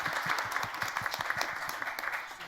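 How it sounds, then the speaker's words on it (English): Steady applause from an audience, many hands clapping continuously at moderate volume throughout. "a round of applause for our groups and our rapporteurs"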